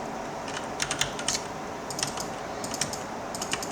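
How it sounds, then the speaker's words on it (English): A computer keyboard clacks during a Minecraft survival session, with irregular bursts of a few keystrokes at a time over a steady background hiss, fairly close and moderately loud. "Keyboard double typing that one."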